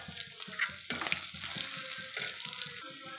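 Spices for a boiled-potato curry sauté in a pan, a short burst of soft sizzling with quick, uneven spoon scrapes and stirring clatter, close by and without speech.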